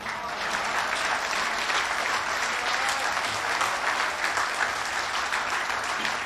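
An audience at a Hindi comedy poetry show in Chandigarh applauding: steady, dense clapping from a large crowd, sustained at even loudness throughout.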